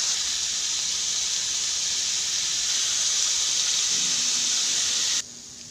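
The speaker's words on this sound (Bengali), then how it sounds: "এখন আমি আলু ফুলকপিগুলো হালকা করে ভেজে নেব" Potato and cauliflower pieces fry lightly in hot oil with salt and turmeric, producing a constant even hiss at close range that stops abruptly just before the end.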